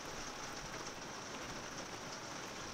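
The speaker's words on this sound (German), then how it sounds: "Ja, da hat uns der Regen doch noch erwischt." Steady, dense rain pattering on a motorhome at a campsite in the Mosel-Saar region, an even wash of sound with no voices.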